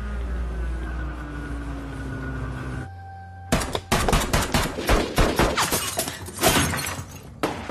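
Action film shootout: after a steady engine-like hum cuts off, a dense barrage of loud gunshots erupts in rapid irregular bursts, some glass-like shattering mixed in, continuing for several seconds.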